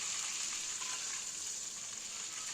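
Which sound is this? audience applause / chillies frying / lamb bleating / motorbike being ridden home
chillies frying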